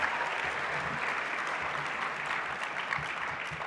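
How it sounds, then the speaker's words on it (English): A large crowd applauds at the closing session of the 2023 Key Club International Convention, dense even clapping that sounds fairly distant and carries on steadily for the whole stretch. "give yourself a big round of applause for a job well done today"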